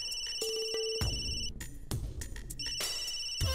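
A phone ringtone sounds in a TV serial scene: bright repeating electronic tones ring for about a second and a half, pause, then start again near the end, loud and close, with no talk over them.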